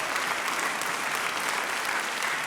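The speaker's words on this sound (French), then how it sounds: "Merci d'applaudir très fort" Award ceremony audience at a hotel applauding, a continuous, even wash of many hands clapping with a faint crowd murmur.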